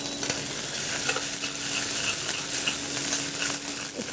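Ginger and garlic fry in a pan, giving a steady, close, hissing sizzle with light crackles and occasional soft stirring taps, uninterrupted and with no one talking.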